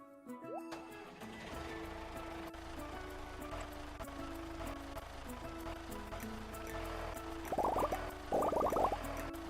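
Steady rain patters throughout a Stardew Valley farm scene, a continuous soft hiss under looping game music, with a few brighter splashy bursts near the end.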